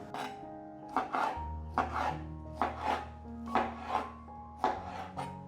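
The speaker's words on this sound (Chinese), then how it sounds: "把番茄切成小块状，随意的这样子切就可以了" A knife chopping tomatoes into small pieces on a cutting board, about eight distinct close chops in a loose, steady rhythm, each a crisp thud-and-slice with nothing else heard.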